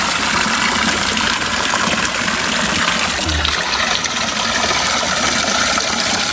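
Spring water from a forest source flows steadily at a Kathmandu hillside temple, a constant close rushing and trickling with no break, loud and continuous throughout.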